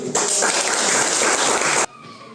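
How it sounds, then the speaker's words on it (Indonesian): Group of people in an Indonesian classroom observation session clapping together, a dense burst of applause lasting under two seconds that stops abruptly, leaving a quiet room. "kita berikan tepuk tangan"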